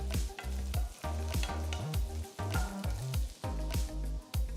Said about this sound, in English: Next, add 1 onion that's been cut into wedges.